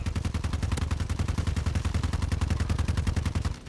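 Rapid automatic gunfire in Warzone 2, a fast, even stream of sharp shots repeating without pause for several seconds, loud and close.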